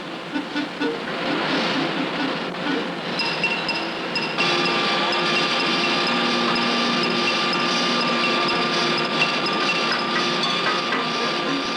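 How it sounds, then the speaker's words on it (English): Preset machine grinding the ventilated rib of a trap gun barrel to height, a steady abrasive whine rich in high tones that grows louder and more constant after a few seconds, with faint background clatter. "Preset equipment grinds the ribs to the proper height above the barrel"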